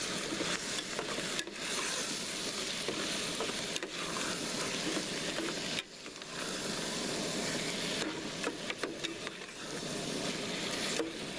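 Tomato sauce stirred into a sizzling chili meat base while cooking in a camper van, giving a steady loud frying hiss with scraping stir strokes and brief dips, close up and without talk.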